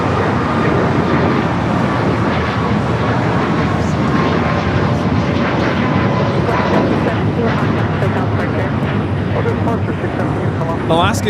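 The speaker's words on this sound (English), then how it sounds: "Alaska Airlines 332 taking off to Los Cabos on the MAX 8s in the Honoring Those Who Serve livery" Alaska Airlines Boeing 737 MAX 8 in Honoring Those Who Serve livery taking off from LAX, a loud continuous jet roar throughout, with voices talking underneath.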